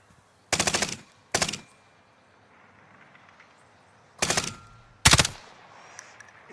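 Bursts of enemy automatic gunfire in a shooter video game: four sharp rapid-fire volleys, two close together early and two later, loud against a quiet background.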